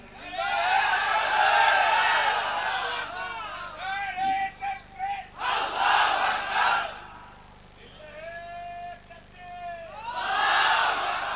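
A large crowd at an Islamic religious gathering shouts takbir in loud collective bursts, several waves of massed voices separated by brief pauses with a single voice leading between them.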